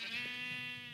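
A sheep in the Minecraft video game gives one steady, nasal bleat lasting about a second, clear and upfront against quiet game background.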